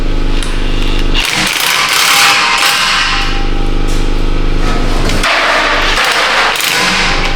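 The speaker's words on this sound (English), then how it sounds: "I'm going to go around and peen that edge just a little bit so we can get that little bit of a tighter fit" A hammer peens the edge of a catalytic converter flange on a Toyota Tundra exhaust, giving loud, dense, ringing metallic blows in a fast, steady run, close up with no voices.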